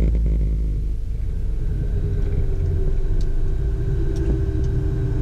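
A private jet braking hard on the runway after touchdown with lift dump deployed, heard from aboard: a loud, steady low rumble with a droning engine hum that holds constant throughout, no voices.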